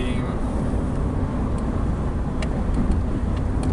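A Nissan Primera with newly replaced suspension rods rolls along a bumpy road at about 30, giving a loud, steady rumble of engine and road noise close up, with faint knocks and rattles over the top.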